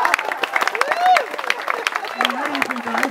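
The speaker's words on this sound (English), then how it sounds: "Give him a round of applause." Audience applause for a guest at a Democratic club's annual summer celebration, scattered claps mixed with voices and cheering from the crowd, a brief whistle rising above the noise.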